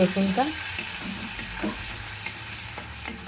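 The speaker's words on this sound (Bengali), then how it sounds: "রসুনটাও লাল লাল করে ভেজে নিলাম" Grated garlic and black cumin seeds sizzle steadily in hot oil, a constant close frying hiss with a few soft stirring scrapes and clinks.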